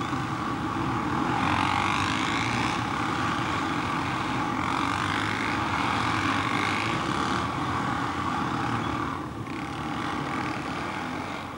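A sixteen-rider motorcycle display team doing a formation ride at the Edinburgh Military Tattoo produces a continuous, dense engine drone heard from a distance, with slight swells in level as the bikes move.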